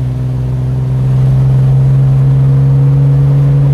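The 4.0-litre six-cylinder engine of a Jeep Wrangler TJ with a freer exhaust drones loud and close in a steady, deep hum that swells slightly after the first second and then holds even.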